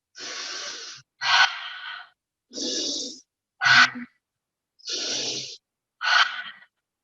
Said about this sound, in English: let's take 3 lion's breaths here